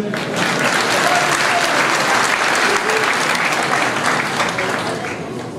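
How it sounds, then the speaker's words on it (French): Townspeople at a 2016 New Year's greetings event applaud a man named Lucien, with loud, steady clapping from a large crowd over several seconds and scattered voices mixed in, tapering slightly at the end. "Lucien, on peut l'applaudir"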